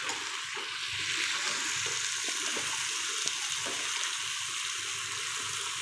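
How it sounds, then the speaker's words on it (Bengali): Broth is poured into a pan of sizzling radish curry cooked with ginger, garlic and stems, giving a steady hiss of frying and liquid with no talk. "এখন আমি এখানে হালকা পরিমাণ ঝোল দিয়ে দেব মূলাতে।"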